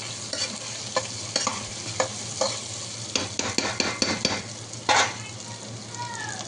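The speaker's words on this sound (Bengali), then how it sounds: "এবার পেঁয়াজগুলোকে ভালো করে ভেজে দেবো যতক্ষণ না লাল লাল হচ্ছে।" Chopped onions frying in hot oil for mutton kosha, with a soft steady sizzle broken by repeated scraping stirs of a spatula in the pan.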